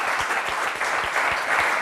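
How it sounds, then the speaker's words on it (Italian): An audience at a live quiz-show event applauds in a steady, dense wash of clapping with a few louder individual claps standing out, sustained throughout the short moment. "subito l'applauso va al nostro filologico di questa sera"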